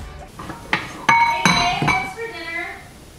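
Dishes being washed by hand: pots and cutlery clink and knock together in four sharp, close strikes with brief ringing, followed by softer rattling and a faint voice in the background.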